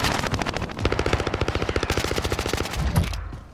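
Rapid automatic gunfire from Call of Duty: Modern Warfare, a steady, fast, loud burst of shots lasting about three seconds, with no one talking.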